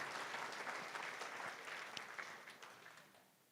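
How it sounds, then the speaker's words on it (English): Audience applause at an AmeriCorps anniversary celebration and opening ceremony, a dense steady patter of many hands clapping that fades gradually toward the end, with no talk over it. "you can clap for that"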